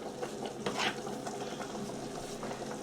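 Food bubbles and spits quietly in a pan on the stove, with light stirring scrapes and a brief louder burst of sizzle partway through.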